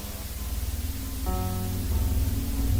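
Loud, harsh static hiss fills everything in a Minecraft video, with sustained piano chords faintly underneath, one chord change midway, pulsing slightly and continuous throughout.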